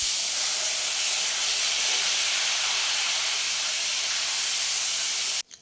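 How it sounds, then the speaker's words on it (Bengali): Potatoes fry in hot oil, giving a loud, steady sizzling hiss that runs unbroken for several seconds before cutting off abruptly. "চলো এখন আমি কিন্তু আলুটা ভাজা বসিয়ে দিই"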